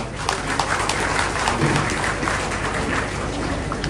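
An audience at a fugdi folk dance competition applauds in a dense, continuous wash of claps, loud and steady throughout.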